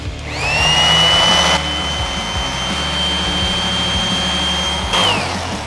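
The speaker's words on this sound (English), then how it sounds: "Got another sander, plug that in." An electric sander plugged into a Bluetti AC500 power station spins up with a loud, high steady whine that holds for several seconds, then winds down, with a low rumble running underneath.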